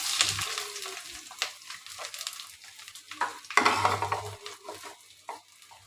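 Onions dropped into hot mustard oil with fried whole spices for chicken pulao, a sharp sizzle and hiss with spoon scraping and stirring against the pot, the frying bursting louder at two points, no talk.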